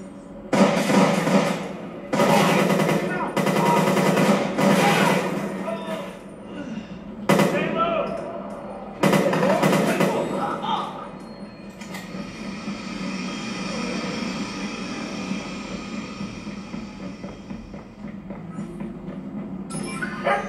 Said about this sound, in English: Southbound train.